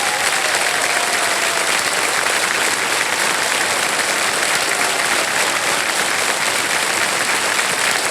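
A studio audience on the Kaun Banega Crorepati game show applauds loudly and continuously, a dense wash of many hands clapping at once with no break.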